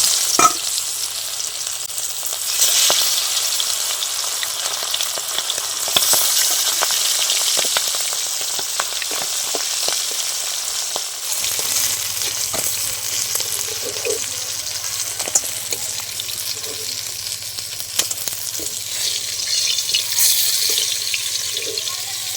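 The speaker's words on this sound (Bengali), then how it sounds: "বাকি মাছগুলো আমি একই রকম করে ভেজে নেব।" Pomfret fish shallow-frying in hot oil for a Bengali fish curry, giving a steady, close hiss of sizzling that runs unbroken throughout, with faint clinks and scrapes now and then and no voices.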